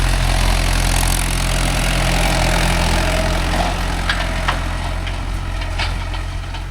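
Mahindra 575 DI tractor pulling a 9-tine spring cultivator through a field, its engine a loud, steady close-up drone with sharp rattles and clanks scattered through the second half and no voices.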